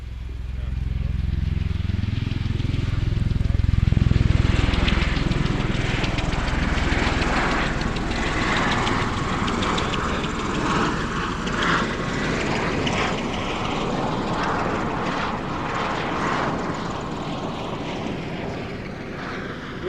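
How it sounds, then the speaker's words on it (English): V-22 Osprey tiltrotor aircraft at an air show, a loud, deep rotor and engine roar that swells as it passes and then holds steady, with a commentator talking over it throughout. "We expect now to see the Osprey making a so-called penetration descent into a normal approach to a roll-on landing around the runway centre point"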